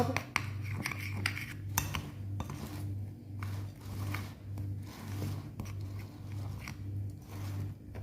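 A spoon clinks and scrapes against a bowl while tempeh is stirred with egg and a little water, producing repeated close metallic taps and rubbing over a low steady hum.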